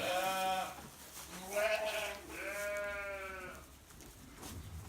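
A baby goat on a farm gives three drawn-out bleats in a row, close and fairly faint, with short pauses between them.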